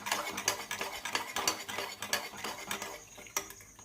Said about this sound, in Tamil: பருப்பு வெந்து சூடாக இருக்கும்போதே கரண்டியால் நம்ம நல்லா இந்த மாதிரி கலந்து கொடுத்தோன்னா நல்லா அழுத்தி கடைஞ்சோன்னா பருப்பு நல்லா மசிஞ்சிடும்